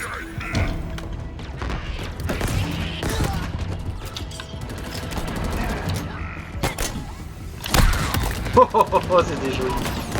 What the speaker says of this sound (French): Putain, l'autre avec sa mitraillette est chiant.